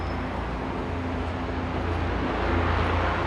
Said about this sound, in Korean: 와, 헬리콥터 날고 있습니다.